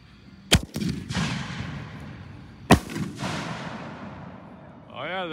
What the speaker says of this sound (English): New Nishiki blast.